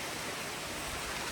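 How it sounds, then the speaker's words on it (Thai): Steady rain falls outside a house, a constant even hiss of broad noise with no breaks and no voices, moderately quiet throughout. "ตอนนี้อยู่บ้านเนาะฝนตก"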